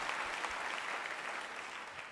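A church congregation claps in dense, sustained applause, even and moderately loud for a couple of seconds with no talk over it.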